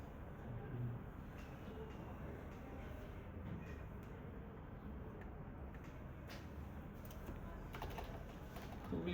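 Someone types a search word on a computer keyboard. Faint, scattered key taps sit over a steady, noisy background hum.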